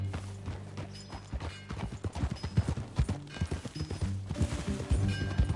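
Rhythmic clip-clop of a horse galloping in Red Dead Redemption 2, steady hoofbeats close by with harness rattle and a low musical drone beneath, no talking.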